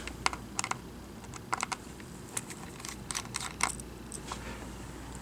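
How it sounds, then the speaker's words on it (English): Screws come out of a Lenovo N21 Chromebook laptop's battery, giving small, sharp plastic-and-metal clicks and ticks in scattered bursts, close and fairly quiet over a low steady hum. "And then remove the 3 screws holding the battery down."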